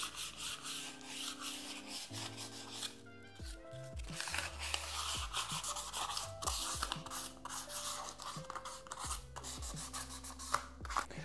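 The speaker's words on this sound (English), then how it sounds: "The solid sanding block is really good for taking those drill hole burrs out" A solid sanding block rubs over drill-hole burrs in a series of close, steady scraping strokes, soft and continuous with slight rhythmic variation.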